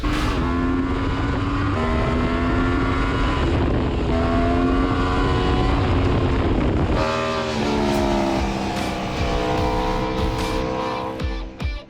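A 2019 Aprilia RSV4 1100 Factory motorcycle ridden hard on a race track, its loud engine screaming continuously with rising pitch, a brief shift or throttle change midway, then carrying on at high revs.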